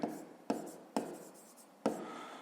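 Pen strokes writing out a fifth-grade math solution on paper come as four short, close scratching bursts spaced about half a second apart, quiet and alone.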